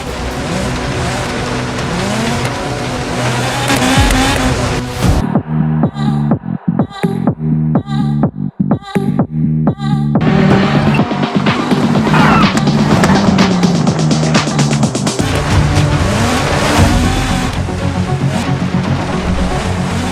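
Classic and modern rally cars in a racing video game, roaring engines with tire squeal and skidding, broken midway by a stretch of choppy, stuttering engine bursts before the loud racing resumes.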